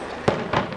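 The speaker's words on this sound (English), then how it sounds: "Some kind of gunshots going off." Two sharp firecracker-like bangs crack out about a quarter second apart on a historic high street in Coimbra, Portugal, loud and echoing over a faint street background.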